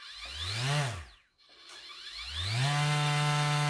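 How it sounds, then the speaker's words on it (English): Surf prep sanding system sander running without a vacuum attached, a whirring motor that winds down to near silence and then spins back up to a steady high hum. "So this is going to be just the sander on its own, no vacuum."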